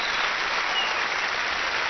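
A television studio audience applauds a live song performance on France 2, a loud, dense, unbroken burst of clapping.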